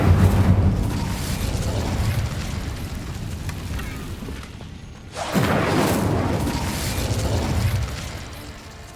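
A fiery Incendio spell cast in Hogwarts Legacy: a dense, loud rumble of magical combat sound that briefly dips, then erupts again in a sharp, booming burst about halfway through and roars on.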